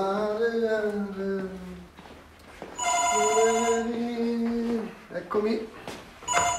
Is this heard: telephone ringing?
yes